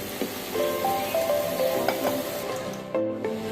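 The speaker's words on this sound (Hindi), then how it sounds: "प्याज और भिंडी को हमने फ्राई कर लेना है।" Sliced okra and onion fry in a pan and are scooped out, a soft continuous sizzle broken by light stirring scrapes, under faint background music.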